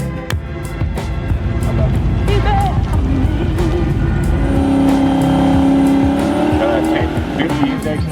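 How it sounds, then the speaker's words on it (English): A Hemi-powered car at the Modern Street Hemi Shootout drag race roars loudly at the line and launches, with a heavy engine drone, crowd and track noise, and people talking over it. "So Hemi Bear helps us line up, make sure I stage correctly at the Modern Street Hemi Shootout."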